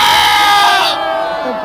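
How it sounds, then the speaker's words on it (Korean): A crowd at a political rally shouts and cheers in one loud sustained roar that fades slightly toward the end, with no separate voices standing out. "다시 한번 환호 질릅시다"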